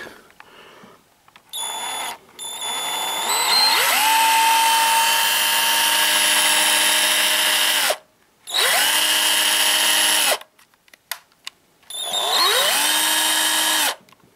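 A cordless drill with rebuilt battery cells whirs up to speed in several bursts, a long high-pitched spin followed by shorter runs, loud and close, with gaps of near silence between.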